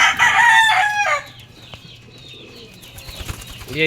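A rooster, a breeder gamecock, crows loudly and close for about a second, followed by softer clucks and bird chatter over quiet background.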